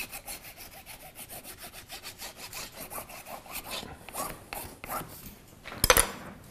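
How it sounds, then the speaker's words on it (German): Gauze is rubbed into glue on a book block with fast, rhythmic back-and-forth scrubbing strokes, close and continuous, ending in a brief sharper clatter and no speech. "Nehmen uns unsere Gaze, eine Art Schleier, damit der Buchblock auch hält. Reiben das in den Leim ein."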